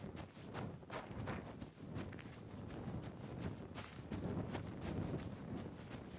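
Faint, steady hoof clip-clops of a walking horse in the video game Kingdom Come: Deliverance II, an even rhythm of soft knocks against a quiet background hiss.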